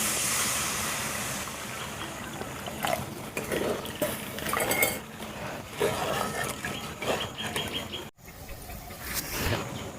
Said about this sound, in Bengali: এবার পরিমাণ মতো জলটা দিয়ে দিচ্ছি।